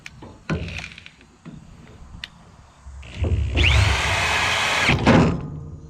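A few sharp knocks and taps, then a power drill whirs up and runs steadily for over a second before stopping, followed by another brief burst.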